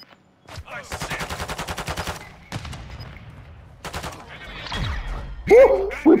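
Sniper rifle shots ring out in a video game, several loud cracks with echoing tails spaced a few seconds apart, mixed with game sound effects and excited talk from a player.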